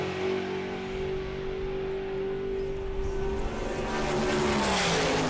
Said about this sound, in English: we got something noisy rolling underneath us now. Oh, just a Top Fuel dragster, of course.